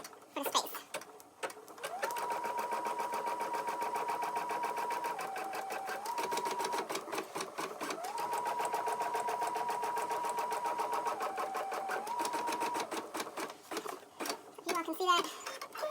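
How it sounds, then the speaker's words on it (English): A Brother PE800 embroidery machine runs a basting stitch, its steady mechanical whirring and rapid needle tapping continuous and close for most of the stretch, with wavering motor pitch and clicks at start and end. "I'm just going to baste out this stitch for the space."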